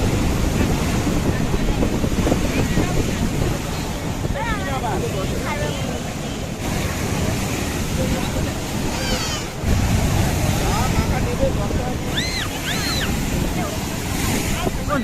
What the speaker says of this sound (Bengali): দীঘা সমুদ্র উত্তাল, দেখতে পাচ্ছেন মারাত্মক ঢেউ হচ্ছে, মারাত্মক ঢেউ